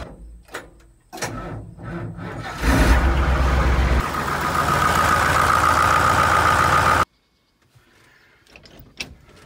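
The engine of a 1980s combine harvester is started and run for a wheat harvest: a few knocks and clunks, then a loud, rough engine roar that cuts off abruptly, followed by faint clicks and rustles.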